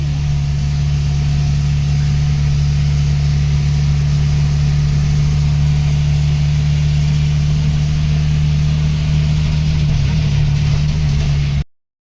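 An auto rickshaw travelling on the Mumbai highway at night in rain near Khed, its engine giving a steady loud low drone and rumble from inside the cabin without pause, with no talking.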